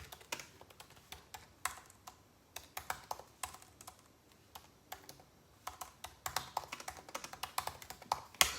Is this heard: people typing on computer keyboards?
yes